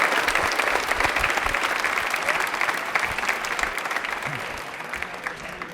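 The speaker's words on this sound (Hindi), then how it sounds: "तालियां दे दीजिए एक बार, जोरदार वाली बजा दीजिए" A studio quiz-show audience breaks into loud, dense applause, many hands clapping steadily for several seconds and fading slightly toward the end, with no talk over it.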